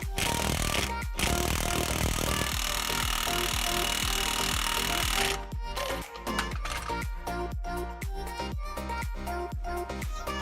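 A grade 8 bolt is tightened to press a bushing out of a Foxbody Mustang rear control arm, with a steady loud mechanical grind that gives way to a rapid series of sharp ratcheting clicks and knocks.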